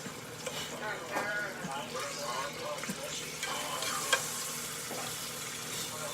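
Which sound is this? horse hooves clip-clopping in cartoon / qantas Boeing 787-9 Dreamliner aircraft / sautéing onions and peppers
sautéing onions and peppers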